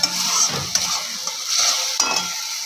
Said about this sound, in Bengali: মশলা থেকে তেল ছাড়ছে তত সময় দিয়ে একটু কষে যাবে এমন করে